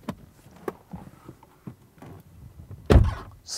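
Quiet background shuffling, then a single solid Porsche 911 car door thunk near the end, close and heavy, followed by a short rustle.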